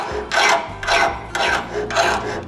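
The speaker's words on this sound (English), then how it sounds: "gonna see if it got hard by using a chainsaw file on the blade edge" A chainsaw file rasps across a steel blade edge in four steady back-and-forth strokes, close and loud, with brief pauses between them.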